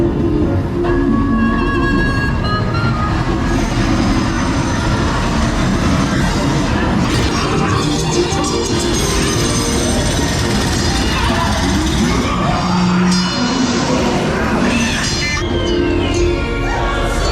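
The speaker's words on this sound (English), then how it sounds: "Want to take a ride on the train?" A Disney theme park train rumbles steadily along the rails, loud and close throughout, with a continuous mechanical clatter and occasional screeches and voices underneath.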